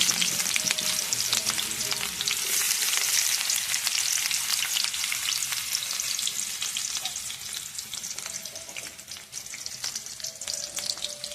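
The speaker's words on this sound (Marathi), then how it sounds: "कांदा भाजायला लागला" Onion and cumin seeds frying in hot oil, a loud dense continuous sizzle with constant fine crackles and spits, close up and unbroken, with no talking.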